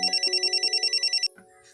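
A telephone ringing in a Pakistani drama scene, with about eleven rapid, evenly spaced electronic trill pulses, loud and close, that stop abruptly, followed by faint rustling.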